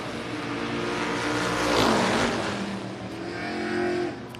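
A Corvette on small tires and a Mustang make a drag-racing run, engines roaring as they pass with a rising, then falling sweep, loudest near the middle before fading off.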